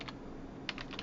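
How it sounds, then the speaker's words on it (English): Keys on a computer keyboard tapped close by in a couple of quick bursts, a short cluster at the start and a denser flurry near the end, with no talking. "Let's start typing streetscape."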